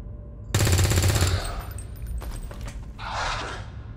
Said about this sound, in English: And I'll take a shot.